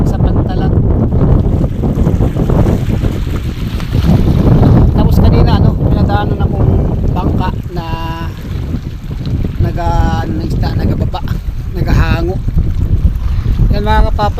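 Strong wind buffets the microphone with a constant loud roar, while voices talk intermittently underneath.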